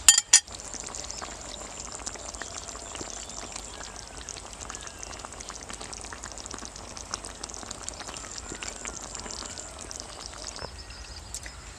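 Fried egg fritters go into a nearly finished egg and potato curry. A brief clatter opens, then a low, steady simmering hiss with faint bubbling continues alone.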